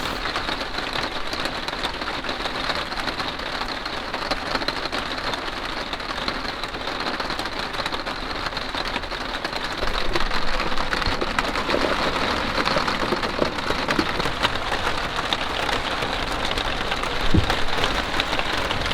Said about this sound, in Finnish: Ja sade jatkuu.